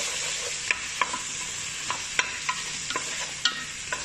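Tomato paste being stirred into chicken salona in a pan, a bright steady sizzle punctuated by regular sharp spatula scrapes and clicks against the metal.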